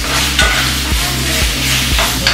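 Chicken sizzling loudly in a pan on high heat, a steady close frying hiss broken by four regular scraping stirs about half a second apart.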